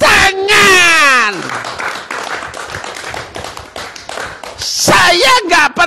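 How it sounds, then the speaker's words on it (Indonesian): Clapping from an audience at a religious talk, a burst of hand claps breaking in after a speaker's raised voice, with speech returning at the end. "Tembus semua, tepuk tangan."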